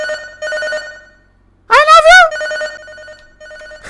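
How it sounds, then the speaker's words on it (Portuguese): An in-game telephone rings in the Nintendo 64-style horror game Crow 64, with a few short electronic bell bursts and one loud, warbling trill in the middle, heard alone. "aquele telefone está tocando, então vamos atendê-lo"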